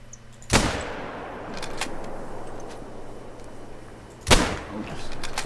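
Two sharp rifle shots in the hunting game theHunter: Call of the Wild, several seconds apart, each a loud crack followed by a short echoing tail over quiet outdoor ambience.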